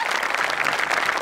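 Audience applause at a live comedy stage show, a dense burst of clapping from a crowd that stays even and loud for its whole short length.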